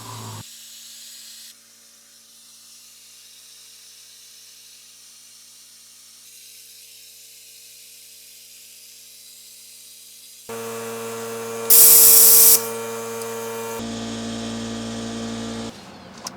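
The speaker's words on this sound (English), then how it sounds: "I will be using a brake bleed tool to accomplish this" A brake bleed tool draws air from the front brakes of a 2003 Toyota Camry 2.4L. Near-silence gives way to a loud, steady hiss and buzz that runs through the final third, with a brief sharper surge partway in.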